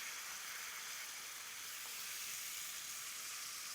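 Risotto rice cooking with white wine in a pan, a steady close sizzle and bubbling hiss running without a break while it is stirred, no talking.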